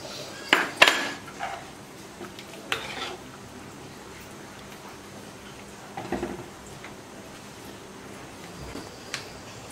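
A spoon stirs cornflour into beef stew in a pot, giving a few soft scrapes and light clinks against the metal, mostly near the start, with long quiet stretches between.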